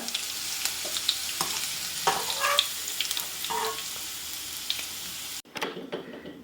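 Bitter gourd fries in hot oil in a Kerala kitchen, giving a steady crackling sizzle with scattered pops and stirring clinks, then a sudden drop to quieter sounds near the end.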